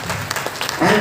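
Audience applause at a business seminar in Agra, a short burst of steady clapping from a crowd that swells louder toward the end.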